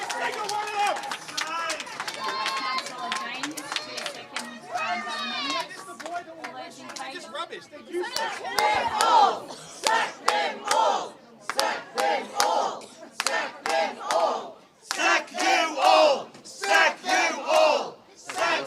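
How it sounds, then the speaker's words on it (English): Angry crowd shouting and jeering at a council meeting question time, a dense roar of many voices with sharp outbursts in bursts, loud and close throughout. "The crowd not happy with the answer."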